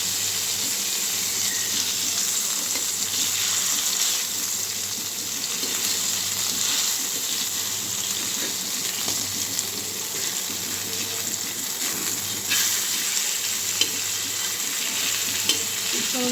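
Fish sizzles in oil in an old, long-used kadai, a continuous crackling fry with faint stirring and watery hiss, steady and close without speech.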